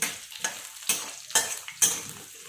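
Potatoes frying in oil with turmeric powder, a steady sizzle broken by five regular scraping strokes of a spoon stirring them in the pan.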